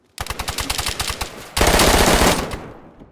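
Gunfire from the survival video game DayZ, a rapid automatic burst of close shots in quick even rhythm followed by a denser, louder volley that fades out, with no talk.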